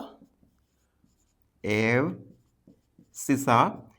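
A pen or marker writes coordinates on paper, giving two squeaky, scratchy bursts of strokes separated by near silence with faint ticks.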